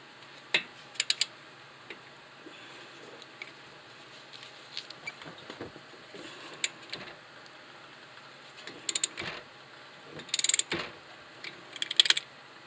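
On a 2011–2017 Toyota Sienna front brake, a ratchet works loose a 14 mm caliper bolt, giving scattered bursts of quick, close mechanical clicks separated by quiet gaps.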